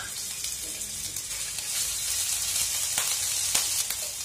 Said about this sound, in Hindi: अदरक के पेस्ट को हम आधा मिनट घी के साथ फ्राई कर लेंगे